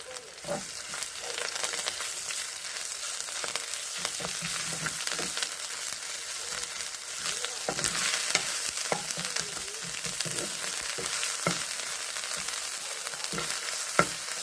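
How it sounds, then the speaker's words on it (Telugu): Ginger paste frying in a pan with oil, a soft, even sizzle with occasional light crackles and faint stirring scrapes, steady and fairly quiet throughout, with no talking. "అల్లం పేస్ట్ వేసుకున్నాం కదా, కొంచెం వేగనిద్దాము"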